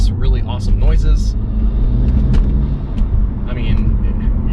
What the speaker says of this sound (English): It's got a lot of more induction and intake noise. You hear a lot more turbo spool and the diverter valves